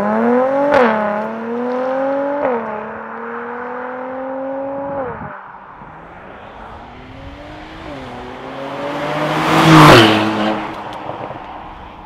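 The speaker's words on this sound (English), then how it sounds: "Then let your foot off the brake pedal and immediately press down hard on the accelerator." A Mercedes C43 AMG launches hard from a standstill, its engine note climbing through rising revs with quick breaks at gear changes, loud and close, ending in a brief rushing surge of noise.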